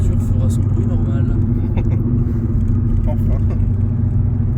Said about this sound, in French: Toujours le bruit horrible des roulements